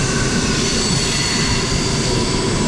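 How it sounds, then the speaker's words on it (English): A Moscow Central Circle train pulls into a station with a loud, continuous rumble and a broadband roar of wheels and carriages that holds steady throughout. "here it comes, here's the train"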